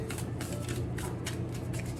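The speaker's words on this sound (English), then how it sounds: "I don't want to shuffle too hard because these are new" A new deck of tarot cards riffle-shuffled in quick, crisp bursts, several rapid ruffles close by with no talking.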